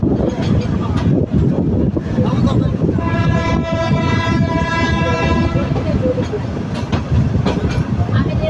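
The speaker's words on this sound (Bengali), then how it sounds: "নারায়ণগঞ্জ কমিউটার ঢাকা এবং নারায়ণগঞ্জ জেলার মধ্যে চলাচলকারী একটি জনপ্রিয় মিটার গেজ ট্রেন।" Narayanganj Commuter, a meter-gauge passenger train on the Dhaka–Narayanganj line, rumbles steadily and loudly up close, with a sustained horn-like tone in the middle of the run, against a noisy, continuous background.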